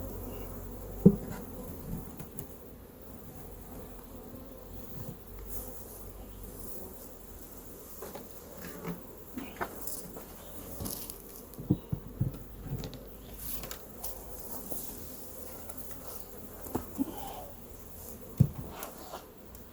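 Honey bees buzz around a backyard beehive during a queen release, a soft, continuous droning hum with occasional louder passes of individual bees near the microphone.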